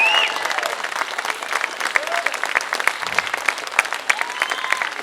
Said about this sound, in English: Mr. Ken Loach, Mr. Jimmy McGOVERN, let's hear it!